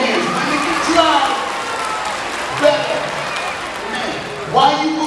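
A middle school audience claps steadily in a loud, dense wash of hands that runs the whole time, with a few brief swells of louder crowd noise and voices.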